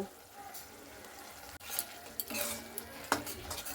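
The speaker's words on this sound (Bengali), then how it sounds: "হলুদের গুঁড়োটা দিয়ে খুব সুন্দর করে নাড়াচাড়া করে নিলাম।" Onions stirred with turmeric powder in a pan for an Indian egg and potato curry, a quiet sizzle under scraping of a spoon against the pan, with several short clacks of the utensil.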